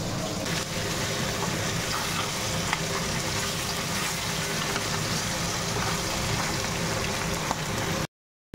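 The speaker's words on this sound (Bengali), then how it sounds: "মাছগুলো ভেজে নিচ্ছি" Fish frying in a pan of hot oil, a dense steady sizzle with small pops, close and continuous, ending abruptly in silence.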